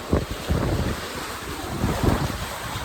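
Wind buffets the microphone while Atlantic Ocean waves wash and surge around a sailboat far from land, a continuous close roar with rhythmic swells.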